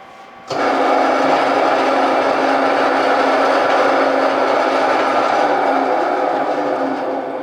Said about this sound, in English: something that's not supposed to be loud, like this dough sheeter